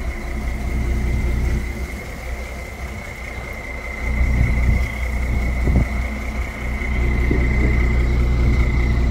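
A fishing boat's engine runs steadily at Muttam fishing harbour in Kanniyakumari, a continuous low idling rumble with a faint high whine layered above, holding fairly even throughout with slight swells in loudness.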